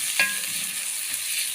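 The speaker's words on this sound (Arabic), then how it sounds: "ننزل عليه بفلفل اخضر" Green pepper and garlic fry in a pan, a brief steady hiss of sizzling oil with a short scrape of stirring near the start, close and continuous.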